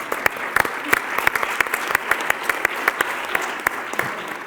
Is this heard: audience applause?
yes